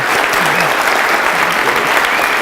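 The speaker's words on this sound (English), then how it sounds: "another round of applause, please." A lecture audience applauds in a dense, continuous wash of clapping that stays loud and even throughout, with a faint murmur of voices mixed in.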